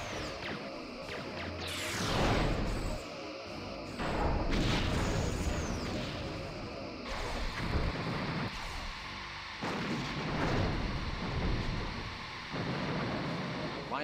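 Weapon fire and booming blasts in the Star Trek Bridge Commander space combat game, repeated swooping discharges and explosions layered over a continuous loud rumble.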